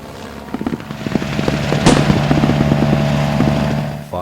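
A WWI Halberstadt aircraft engine drones in during a battlefield reenactment at Le Quesnoy, a loud buzzing hum that swells as it nears, with sharp cracks of gunfire mixed in.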